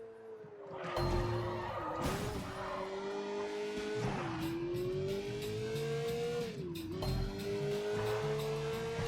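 Car in the open-world crime game Sleeping Dogs drives with a steady engine drone that rises and dips with throttle, while tires squeal in repeated bursts through corners, loud and continuous throughout.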